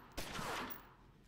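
A single close gunshot in the gangster video game Omerta: City of Gangsters, one sharp crack followed by a short fading tail.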